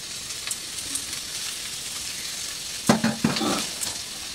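Marinated mourola fish drops into a pan of fried potato and onion, setting off a steady sizzle that swells into a louder burst of frying near the end, with no voices.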